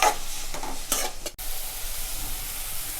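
Tomato, onion and curry leaves sauté in a pan, giving a bright, close sizzle with a few scraping stirs at the start, then a softer steady hiss.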